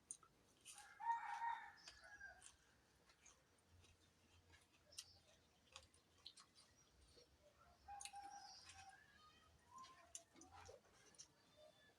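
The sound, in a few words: chickens, rooster crowing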